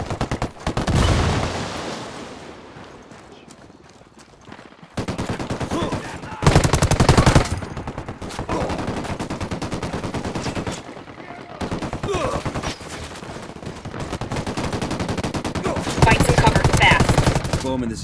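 Ghost Recon Wildlands ambush firefight: repeated loud bursts of automatic gunfire broken by short pauses, some volleys sharper and closer than others, with occasional voices in the mix.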